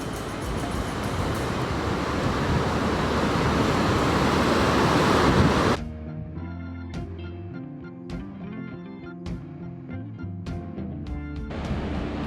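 Surf breaking along a Tasmanian coastline, a loud broadband wash of waves with wind over the first half, then cutting to a quieter scene with faint tonal hum and occasional clicks.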